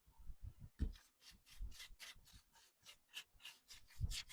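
Brown Fusion wax rubbed by hand onto a thrifted wooden furniture piece, heard as rhythmic back-and-forth rasping strokes, close and soft, repeating about every quarter second.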